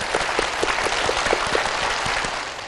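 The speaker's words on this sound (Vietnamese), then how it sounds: "Chúng ta cùng dành một tràng vỗ tay cho người quen." A studio audience on the Vietnamese game show Đuổi hình bắt chữ applauds steadily, a dense, even wash of many hands clapping close and loud throughout, with no voices over it.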